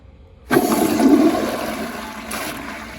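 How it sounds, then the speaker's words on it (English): An American Standard toilet flushes in one loud, forceful rush that starts abruptly and then tapers into a steady draining swirl, with a second brief surge of water near the end. "I'm gonna let the tank fill, and I will do another flush"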